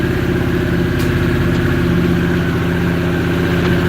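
A Harley motorcycle engine runs at a loud, steady idle close by, with a deep, even, throbbing rumble throughout.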